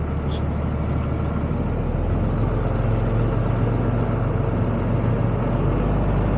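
A drag race car rolling home along the return road at zMax Dragway in Charlotte, NC, giving a loud, constant close-up engine drone and road rumble that stays steady throughout.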